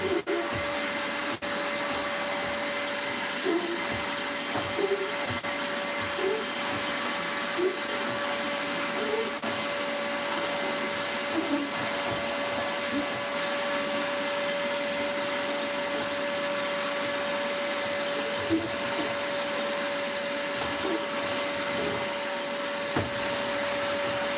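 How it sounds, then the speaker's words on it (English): A vacuum cleaner runs continuously with a steady high-pitched whine, loud and close, with occasional bumps and shifts as it moves, cleaning dust out of a tank. "I'm just going to vacuum out all of the remaining dust"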